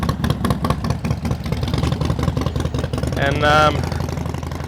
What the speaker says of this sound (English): Check these Harleys out, guys.